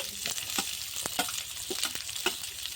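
Chopped onion sizzles in a hot pan while being stirred, with a steady frying hiss and several scraping stirs of the spoon at close range, part of making vegetable momos.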